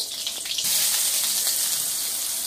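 Cumin, dried red chilies and bay leaf frying in hot oil in an iron wok for biryani give a loud, bright, steady sizzle with a few small crackles early on and no speech.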